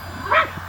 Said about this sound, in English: you guys hear a very faint beep after Popeye stops barking